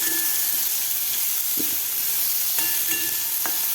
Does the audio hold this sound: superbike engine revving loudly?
no